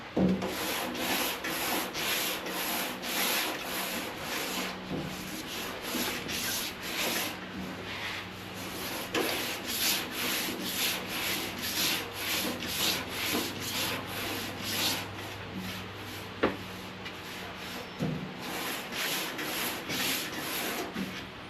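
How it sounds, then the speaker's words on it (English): A panel on a Mk2 Ford Escort RS2000 under restoration is sanded by hand with sandpaper, giving rhythmic raspy back-and-forth strokes that run steadily and close throughout, with a few brief pauses and no voices. "I think I might need a new bit of sandpaper."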